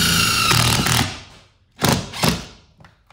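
Power driver running self-tapping screws into a metal stud: a sustained loud whirring burst for about a second, then two short separate buzzing bursts close by.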